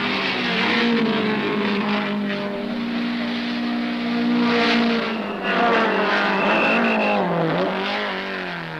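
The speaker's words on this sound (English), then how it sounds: "With Downs in front, the Challenger sandwiched Queck's lead Alpha as a wave of hopeful BMWs waited for something to give" Datsun 510 race cars from 1971 racing on a circuit alongside BMWs and an Alfa. Engines roar loud and close in a continuous sustained drone, with pitch rising and falling as the cars pass.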